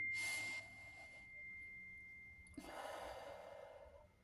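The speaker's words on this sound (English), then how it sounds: "to take 3 deep breaths" Two deep breaths come close to the mic: a breathy inhale, a pause with a faint steady tone, then a longer airy exhale, with no talking.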